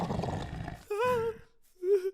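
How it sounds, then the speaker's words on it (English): A cartoon wolf growls in a short animated comedy, giving two brief rising snarling growls after a noisy opening, loud and close with pauses between them. "The wolf appeared growling."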